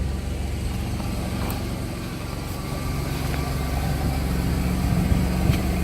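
A car engine runs at a steady idle after starting, its low exhaust drone rumbling close by and rising slightly in level toward the end, with faint rattling ticks on top.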